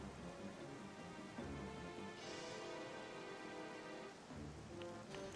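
Steady rain falls in the video game The Legend of Zelda: Twilight Princess, a dense continuous patter with a faint low rumble, broken by a brief brighter splash partway through, with no voices.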